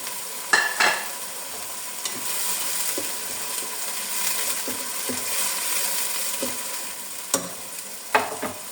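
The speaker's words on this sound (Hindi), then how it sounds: "अब इसमें डालेंगे हम टमाटर, लहसुन अदरक जो मैंने क्रश करके रखा था वो इसमें डालते हैं।" Moderate sizzling as crushed tomato, garlic and ginger fry in a pan for eggplant and potato curry, punctuated by scattered clinks and scrapes of a spoon stirring against metal.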